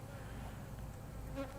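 Honeybees hum in a low, steady drone from an open hive during a frame inspection, faint and continuous without talk.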